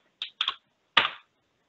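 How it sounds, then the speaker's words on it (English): A computer keyboard clicks as a short message is typed in Microsoft Teams: a few crisp keystrokes in two brief bursts with a pause between, close and clear, with no voices. "So press the at sign, then start typing their name in."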